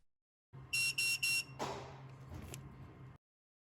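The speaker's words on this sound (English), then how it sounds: "Wait until you hear multiple beeps." Three loud electronic beeps in quick succession from a Cretem sachet robot during maintenance, followed by a mechanical whir and clunk that fades out.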